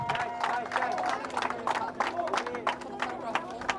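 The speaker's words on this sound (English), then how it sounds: "a final round of applause for your Super GP champion" A crowd at a Super GP motorcycle race meeting at Redstar Raceway applauds the series champion, with scattered claps and a low babble of voices at moderate distance, fairly quiet overall.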